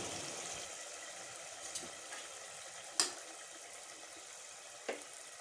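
Fried chicken pieces sizzling in a karahi pan of gravy, a faint steady hiss with a few soft clicks and one sharper clatter partway through.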